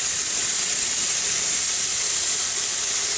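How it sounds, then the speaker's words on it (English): Onion sizzling on a Coleman PerfectFlow 2-in-1 camping stove grill, a loud, steady, bright hiss that holds without pause and has no voices over it. "Got some onion I'm gonna put on the top here."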